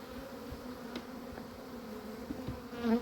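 Honeybees buzzing around the hive on orientation flights in early spring, a steady low hum of many wings with individual bees droning close past the microphone at a soft level.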